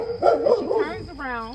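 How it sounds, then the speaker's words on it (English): Belle, a pet dog, lets out a few short barks and yips close by, the barking overlapping a person who is talking. "Y'all, please excuse Belle. Belle is on patrol. Okay, that's my dog here"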